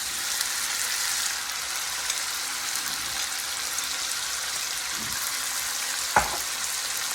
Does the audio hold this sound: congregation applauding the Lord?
no